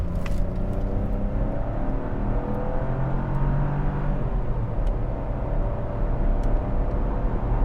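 A 2025 Chevy Trax Activ accelerating on the road, a steady engine drone and rising whir heard from inside the cabin with road rumble, fairly even in loudness, no talking.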